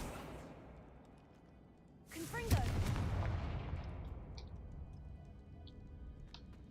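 A Confringo fire spell bursts in Hogwarts Legacy: quiet ambience, then a single sudden booming explosion that rumbles and crackles as it slowly fades, followed by faint ticking debris.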